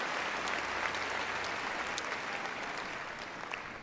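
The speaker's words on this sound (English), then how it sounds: "Give Caroline and George a big round of applause, guys." Applause from a crowd watching a gundog display at Crufts, steady dense clapping filling the whole stretch without a break, loud and sustained.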